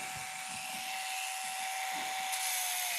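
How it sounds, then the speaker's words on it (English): A small power sander whines steadily as it sands a flat spot on a carved wooden owl, high-pitched and fairly constant, heard close and alone with no voices. "Then I just sand a flat spot."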